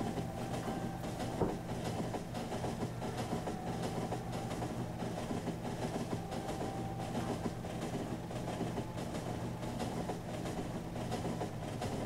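Supply trains run steadily in the video game Factorio, a continuous dense rumble with faint rhythmic clatter that holds at even loudness throughout, with no talk over it.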